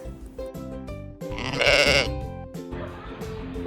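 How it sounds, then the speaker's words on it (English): A sheep on a farm bleats in one long, loud, wavering cry near the middle, with other tonal sounds before and after. "It is a sheep."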